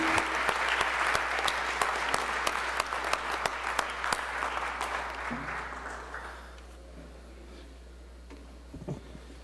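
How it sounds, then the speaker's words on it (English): Members in the Mississippi House chamber give a round of applause, a loud crowd of clapping with a steady low hum beneath it, fading out after about six seconds into quiet room noise. "So let's all give him a round of applause."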